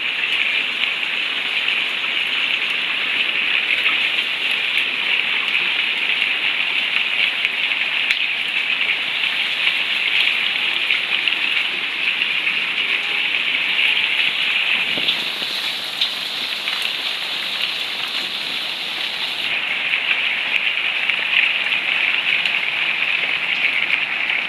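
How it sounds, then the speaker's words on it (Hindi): Heavy rain pouring down steadily for the whole stretch, a dense, loud hiss of drops drumming on surfaces close by, with no talking. "रात से बारिश लगी हुई है, रात से अभी तक बारिश ही बारिश है"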